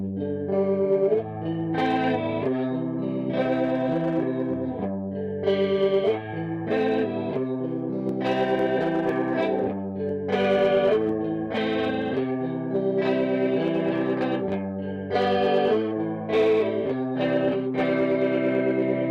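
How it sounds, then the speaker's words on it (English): Clean electric guitar played through the ADA MP1 preamp with its chorus modulation, a warbling, sustained riff of chords and single notes with rhythmic attacks and a lush, wide shimmer. "That is a really good modulation. Great modulation, great sustain for a cleaner sound"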